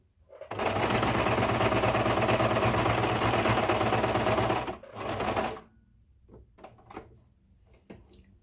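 A sewing machine runs at a steady, rapid stitching rate while sewing fabric trim for about four seconds, then briefly slows and stops, followed by a few faint clicks and handling noises, with no talking.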